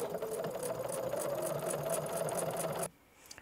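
A sewing machine stitches slowly through a thick denim seam, its needle clattering in a rapid, even rhythm for about three seconds before stopping abruptly, followed by a few faint handling sounds.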